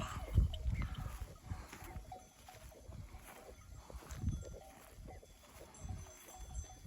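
Faint calls from a sheep flock come and go in a quiet mountain setting on Nurhak Mountain, Turkey, mixed with low thumps and rustling.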